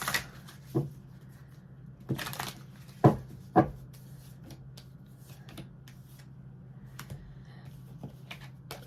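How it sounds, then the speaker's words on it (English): A few crisp, papery tarot card shuffles and taps, scattered bursts spaced over several seconds in a quiet room, with no talking. "Couple shuffles here for Aquarius."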